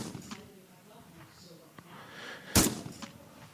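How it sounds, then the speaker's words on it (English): A single sharp gunshot sound effect cracks loudly over ongoing background talk. "I'm going to hit you with the gunshot to the Sarge."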